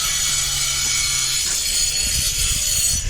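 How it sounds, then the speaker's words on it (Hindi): Construction work at Sajjangarh Fort (Monsoon Palace) on a hilltop in Udaipur, Rajasthan, gives a steady loud grinding, scraping rasp that runs continuously with low rumbling underneath and no talk. "यहाँ पर थोड़ी कंस्ट्रक्शन भी हो रही है जिसकी आवाज़ आ रही होगी इस वीडियो में काफ़ी"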